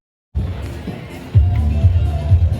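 A crowd of people walks toward the London Marathon near Cutty Sark, a steady murmur of many voices and footsteps that grows fuller and closer after a sudden start.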